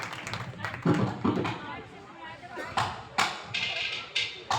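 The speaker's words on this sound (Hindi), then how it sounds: "पहले तो भाई अनिल के लिए जोरदार तालियां बजाएं" Loud clapping for Bhai Anil at a devotional bhajan programme, heard as scattered, uneven claps and thumps, close and fairly loud, mixed with crowd noise and voices talking.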